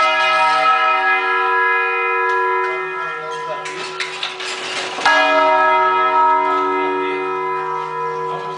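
Brazilian church bells ring with a long, sustained resonant tone, struck again partway through, while a voice speaks over them.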